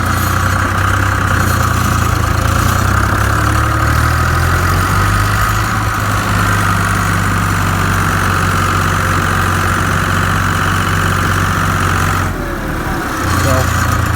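Case IH 395 tractor engine running steadily in high range first gear, a loud continuous diesel rumble with a low throbbing drone that dips briefly near the end. Someone talks over it.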